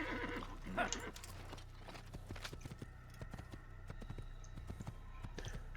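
Horse in the 2007 Assassin's Creed game: a few sharp hoof clip-clops, a brief whinny near the start, all over a steady low background hum, with no speech.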